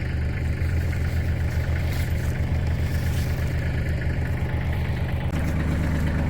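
A tractor engine idling in a garden, a steady low rumbling chug held close and continuous, with a slight shift in tone near the end.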